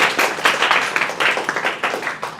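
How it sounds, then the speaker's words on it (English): An audience at a coding bootcamp demo claps for a few seconds, a dense burst of many hands that stays fairly loud and steady before thinning slightly, with no voices over it. "Does anybody clap for them?"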